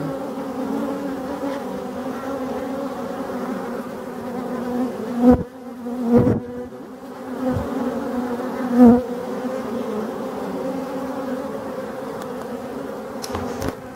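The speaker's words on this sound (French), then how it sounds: "Gros bourdons, gros bourdons." Bumblebees buzz in a low, steady drone close by at forest hives in Brittany, with a few louder passes as individual bees fly near.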